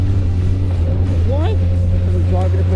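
MK Indy R track car powered by a 220 bhp first-generation Suzuki Hayabusa engine drones loudly and steadily from inside the cabin, a strong low hum that persists while someone talks over it.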